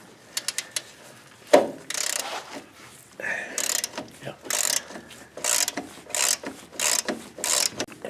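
Ratchet clicking in short bursts while loosening the front strut nuts on a 2004-2014 Ford F150, close up, with a sharp knock near the start and intermittent clattering between runs.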